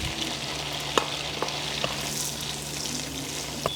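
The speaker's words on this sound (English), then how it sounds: "And then I add the mushrooms." Steady, close sizzling of mushrooms frying in butter and oil, a dense crackling hiss with a few small pops, no talking.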